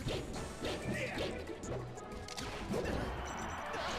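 Falco's lasers and forward smashes in Super Smash Bros. Melee land as repeated sharp impact thwacks and whooshes, fairly quiet under busy game sound with faint talk.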